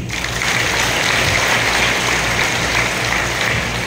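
Dense, sustained applause from a youth congregation at a Batangas gathering, a loud even wash of many hands clapping throughout without letup.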